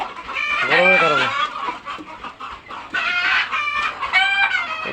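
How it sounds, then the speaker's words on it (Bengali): Chickens on a poultry farm in hot weather cluck and squawk close by in several loud, drawn-out bursts separated by short pauses. "অতিষ্ঠ হয়ে গেছে মুরগিগুলো"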